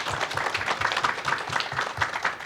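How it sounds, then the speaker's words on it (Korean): An audience at an energy policy forum applauds to welcome a speaker, with many hands clapping in a brisk, even patter that stays steady and fairly close for the whole moment. "뜨거운 박수로 환영해 주시기 바랍니다."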